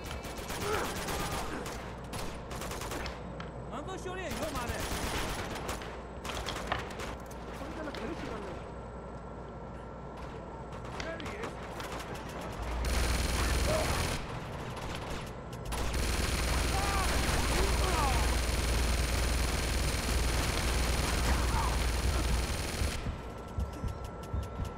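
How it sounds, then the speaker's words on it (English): Sustained gunfire in the video game Uncharted 2 Among Thieves, with bursts of automatic fire and shots layered under a player talking, growing denser and louder in the second half. "who was shooting me that time?"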